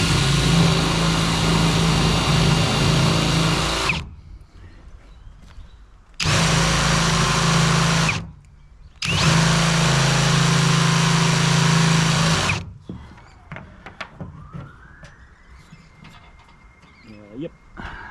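A power drill countersinks a hole during a square drop camper build, running in three loud whirring bursts of a few seconds each with short pauses between, then falling quiet to faint background sounds.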